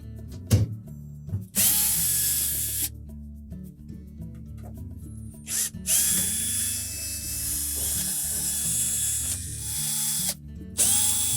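A power driver removes number 15 Torx screws from the perimeter of a Whirlpool dishwasher door's control panel housing. The whirring runs come one after another, with short clicks and pauses between screws.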